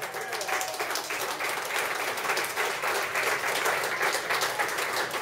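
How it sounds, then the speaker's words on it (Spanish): A crowd at an Argentine folk peña claps steadily and fairly loudly in a continuous, rhythmic-textured applause that fills the whole stretch without pause. "Un aplauso, por favor."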